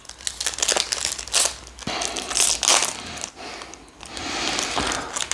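A Panini Prizm college football draft picks card pack wrapper is torn and crinkled open up close, loud bursts of crackling foil-like plastic rustle in uneven handling waves.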